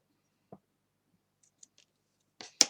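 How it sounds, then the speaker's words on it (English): Scissors trim ribbon to finish a tiny bow on a glitter-decorated wedding wine glass: a few faint clicks, then one sharp, close snip near the end in an otherwise quiet room. "So then you just trim it off"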